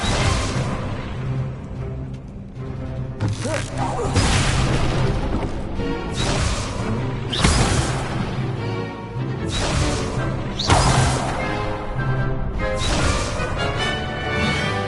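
Fiery Incendio spell blasts from the video game Hogwarts Legacy, a dense run of loud booming bursts and crashes repeating every second or two over a continuous roaring, crackling bed, close and full, with no talking.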